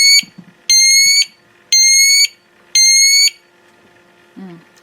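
An UltraFire UBCO1 battery-powered carbon monoxide alarm sounds three loud, shrill electronic beeps at an even pace close by, with brief faint noises between them.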